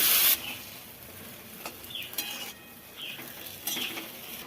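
Poi saag, prawns, brinjal, pumpkin, potato and ridge gourd go into a kadai with a loud splash and hiss, followed by quieter scraping spoon strokes and a soft sizzle, with no voices.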